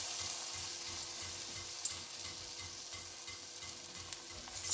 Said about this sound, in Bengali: একইভাবে আমি মাছগুলো ভেজে নেব।